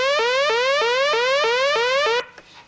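Synthesizer note with its pitch wobbled by a sawtooth-wave LFO, ramping up then snapping back in a steady repeating cycle about every third of a second, loud and alone before cutting off.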